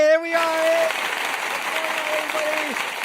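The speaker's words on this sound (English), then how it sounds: "Why does the clapping keep looping?" A looped clapping sound effect fired off repeatedly on a podcast, the applause running steadily for a few seconds while a voice talks over it.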